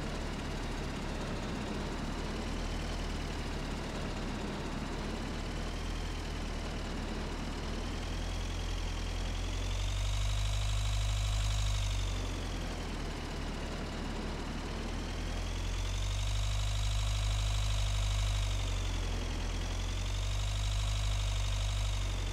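A tractor engine idles in the Agricultural Simulator 2013 video game. A steady, low mechanical hum runs throughout, with a couple of gentle swells in revs, and no talking.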